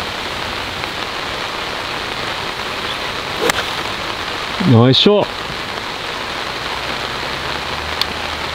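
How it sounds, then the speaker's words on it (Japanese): Heavy downpour drums steadily on a golf course, a broad continuous hiss of rain throughout, with a brief burst of voices and a sharp clubbed shot in the middle. "まさかこんなに降るとは思わなかったですね、 めちゃめちゃ土砂降り"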